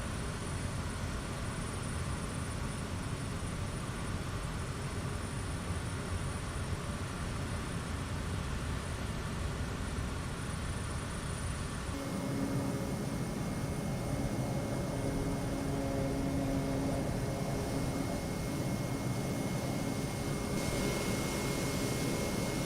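A steady drone of an aircraft engine in a flight simulator plays through a test flight from Burbank to Catalina Island, continuous and loud, with the tone shifting partway through.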